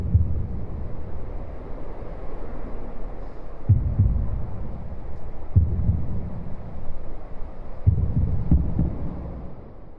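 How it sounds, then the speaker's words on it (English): Cars drive over the concrete sections of a huge flyover, heard from below as a continuous low rumble. Heavy thumps land at intervals as tyres cross the joints, and there is no talk. "it's the sound of cars passing over sort of concrete sections of these huge bridges"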